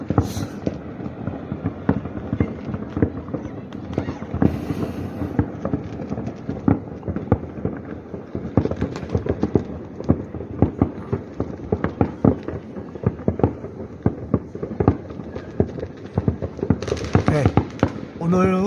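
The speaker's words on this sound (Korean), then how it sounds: "사람들이 이렇게 나와서 이렇게 폭죽 놀이를 하고 있습니다" Continuous crackling and popping of New Year fireworks in Bishkek, Kyrgyzstan, going off at a distance, dense rapid bursts layered over one another with no clear pauses.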